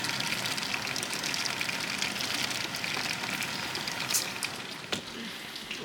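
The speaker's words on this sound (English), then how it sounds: "Guys, it's raining outside." Steady rain hisses outside in a dense, even wash, with a few louder drips and splashes standing out near the end.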